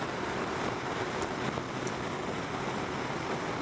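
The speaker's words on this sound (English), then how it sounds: "it's a little bit windy on here today" Steady broadband wind roaring outdoors at the onset of Storm Doris, a constant close rush with slight gusting and no pauses across the whole stretch.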